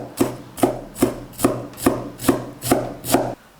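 A knife finely chopping blanched, squeezed-dry bean sprouts for a vegetarian dumpling filling, striking a board in a steady rhythm of about eight close, crisp chops with no talk.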